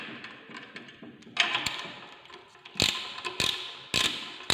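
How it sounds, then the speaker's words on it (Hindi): Clicking ratchet tightening clutch plate bolts on a single plate clutch, working opposite bolts in turn, with a few short bursts of sharp pawl clicks and faint metallic taps, close and isolated. "इन बोल्टों को जब भी आप टाइट करें तो आमने सामने के बोल्ट जो है वो टाइट करें, अपोजिट बोल्ट।"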